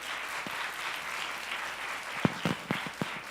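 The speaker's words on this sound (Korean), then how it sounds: "목사님 나오실 때에 두 배로 큰 박수로 맞이해주시기 바랍니다" A church congregation applauds to welcome a pastor at a special January 2019 revival service, a steady wash of clapping with a few louder individual claps standing out near the end.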